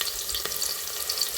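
Chopped onion fries in hot oil, a close steady sizzle with light crackling and a few soft stirring taps over a short stretch.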